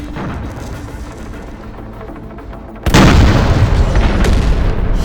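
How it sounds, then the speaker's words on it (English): A massive explosion bursts partway through, blasting a tunnel through a cliffside in Terminator: Dark Fate - Defiance, its loud rumbling roar sustained after a quieter stretch of background battle ambience. "They just blew a tunnel through the cliffside."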